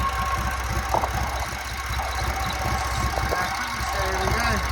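An old JAP 55 stationary engine running on TVO and driving an ex-army generator, a steady close, low knocking thump with a busy mechanical chatter throughout and no voices.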